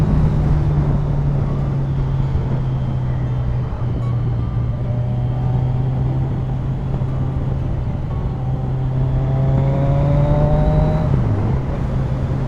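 Kawasaki Z1000SX (Ninja 1000) sport-touring motorcycle, 140 hp engine, accelerating through its gears on a road, a steady engine drone with rising and shifting tones under heavy wind noise, with a dip near the end.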